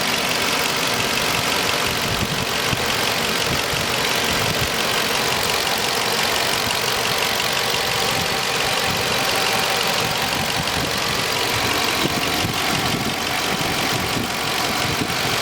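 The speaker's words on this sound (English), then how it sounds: "fuel injectors firing." A 2020 Dodge Charger 5.7 HEMI AWD sits idling up close, a steady, even engine drone with a fine ticking texture from the fuel injectors running through it. No one talks.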